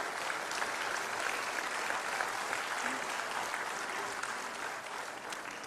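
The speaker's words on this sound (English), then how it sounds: "Big round of applause for our..." Applause rolls steadily through a graduation ceremony hall, a dense crowd clapping at even strength for several seconds before easing slightly at the end.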